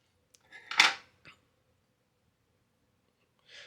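Small scissors snip fly-tying fibers, one crisp cut followed by a few lighter clicks, close and quiet in a still room.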